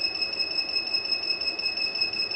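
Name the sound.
power inverter overload alarm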